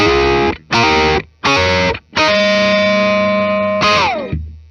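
Chords from a black 1982 Fender "The Strat" electric guitar with American walnut body, run through distortion and chorus-style effects: three short strummed bursts, then a long ringing chord that fades and a final brief chord, loud and alone.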